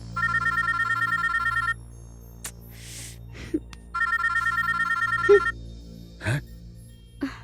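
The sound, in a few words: phone ringtone ringing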